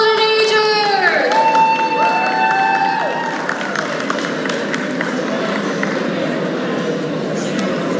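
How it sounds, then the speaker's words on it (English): An audience at an Indo-American community alliance launch event in a banquet hall breaks into steady, dense applause and cheering, with a clear voice over the crowd at the start. "Let's give a round of applause to Golden Agers."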